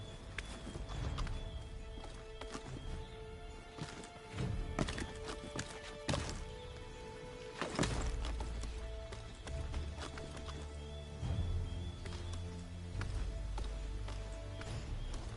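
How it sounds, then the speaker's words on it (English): Horse hooves clip-clopping in Assassin's Creed 3, irregular thuds and taps mixed into a busy game soundscape of clatter and low rumbles, moderately close and fairly faint overall. "Get back on the horse, Connor."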